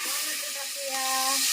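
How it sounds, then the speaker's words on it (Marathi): Black pepper, cloves and cinnamon bark sputter in hot oil for a phodni tempering, giving a loud, steady hiss that swells near the end while a voice speaks over it. "आता आपण फोडणी देऊया."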